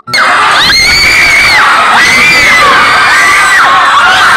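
A large crowd of students at a school speech-choir (sabayang pagbigkas) competition shouts and cheers loudly and continuously, rising voices and whoops overlapping from an abrupt start to the end.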